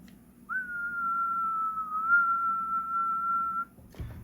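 A steady, sustained whistle sent over the sideband of a Cobra 148 GTL AM/SSB CB radio rings out clearly for about three seconds, holding a single pitch with slight wavering before cutting off, followed by a brief low thump.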